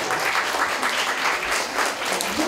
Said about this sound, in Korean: 그래서 박수 부탁드립니다.